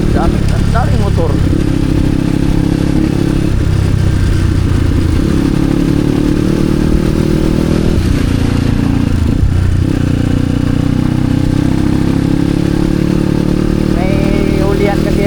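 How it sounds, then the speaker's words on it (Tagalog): Heavy street traffic with many motorcycles rumbles past continuously, engines droning and revving nearby, heard from a rider on an e-bike, with steady loud road noise and a voice speaking in places. "Daming motor."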